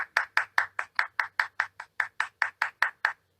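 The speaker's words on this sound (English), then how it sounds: "I'm just going to take my own applause for all of the actors" A single person clapping in steady applause, about sixteen sharp, evenly spaced claps over a few seconds, close and fairly loud, with no voices.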